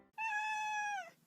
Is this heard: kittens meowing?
yes